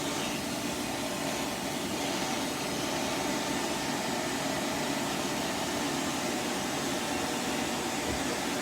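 A cooling air blower runs during a laser skin treatment, giving a steady, loud, broadband rush of air with no breaks throughout.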